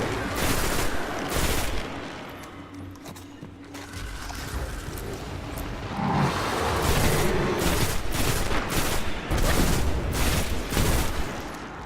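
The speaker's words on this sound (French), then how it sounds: "Il est dur à contrôler en fait, ce fusil." Rifle gunfire in the video game Destiny: rapid, dense shots in a continuous loud volley with a hard-to-control weapon, steady for about twelve seconds with no voices over it.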